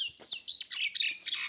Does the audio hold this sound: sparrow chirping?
yes